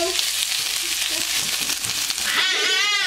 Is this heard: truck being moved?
no